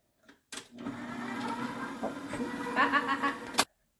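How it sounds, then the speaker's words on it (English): Kitchen blender mixing icing sugar into an icing mixture, a steady motorized whir that starts abruptly, runs for about three seconds with a slight rise in pitch, then cuts off sharply. "I'm going to turn the machine back on and blend this bit in."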